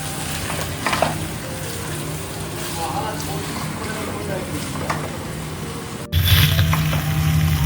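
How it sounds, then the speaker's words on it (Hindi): Potatoes and suran yam cook with spices in a pan for an Indian curry, a loud close sizzle with scraping and clinks that jumps louder near the end. "अब मैं इसमें आलू डालूंगी और इसे भी 2 मिनट तक मसाला के साथ पकाऊंगी"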